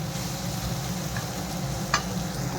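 Meat masala frying in a pan for a fish curry, with a continuous soft sizzle and gentle stirring, close up, plus one brief sharp scrape near the end.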